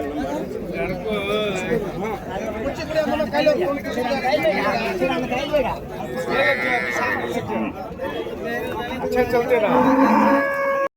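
Cattle at a livestock market in Vaniyambadi, Tirupathur district, with a bull among them, lowing repeatedly and loudly over a steady hubbub of crowd chatter and people talking nearby.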